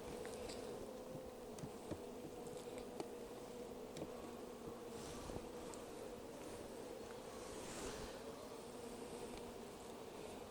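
Honey bees humming steadily inside a small nuc hive during an inspection, a continuous mid-pitched drone close by with faint clicks and rustles, no talk.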